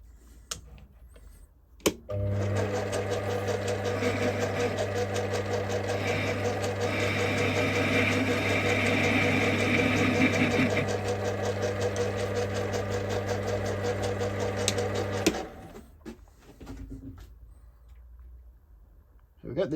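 A lathe parts off a cast iron bush, the motor starting with a steady hum and a tonal drone, a rough cutting chatter rising in the middle, then spinning down and stopping, close and moderately loud.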